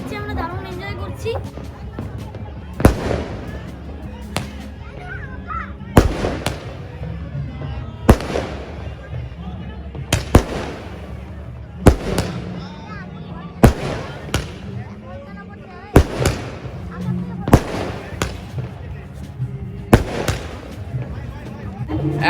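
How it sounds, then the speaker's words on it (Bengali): Bursts of New Year fireworks over Digha on the 31st night, loud cracking explosions at uneven intervals every couple of seconds, over a steady background of crowd chatter and nearby voices. "এখন আতশবাজি ফাটছে নতুন বছরের।"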